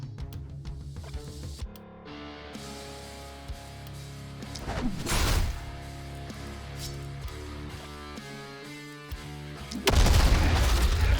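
Explosions from the video game The Last Spell burst out in a few booming hits over music and game sounds, with a loud crash near the end.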